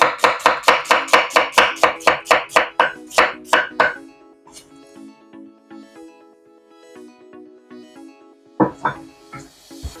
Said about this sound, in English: First we cut the onion, julienne.